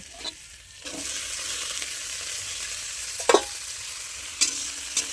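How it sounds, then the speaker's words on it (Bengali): Onion, green chilli and tomato fry in a pan with a soft continuous sizzle while a spoon stirs them, the sizzle jumping as the pieces are moved, with a few sharp scrapes and clacks of the spoon against the pan. "এরপর এটা কিছুক্ষণ নাড়াচাড়া করি"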